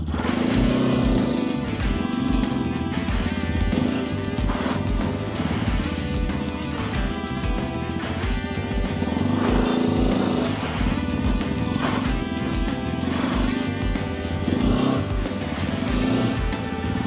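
Hero Xpulse 210 motorcycle engine running steadily close by on a rough road, a continuous dense drone with harmonic layers and mild swells as the rider slowly feeds in throttle, no talking over it.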